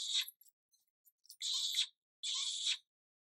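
A plush Easter bunny toy plays a goofy electronic sound, a few faint chirps and then two short, bright, buzzy bursts, close and alone.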